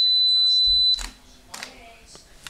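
A camera self-timer emits a steady high-pitched beep that stops abruptly, followed by a few sharp clicks of the shutter and film mechanism.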